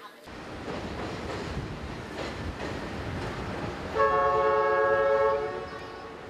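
A train crosses the Dandong–Sinuiju railway bridge between China and North Korea, with a steady rolling rumble of railcars followed by a loud, sustained horn blast lasting over a second before fading back to the rumble.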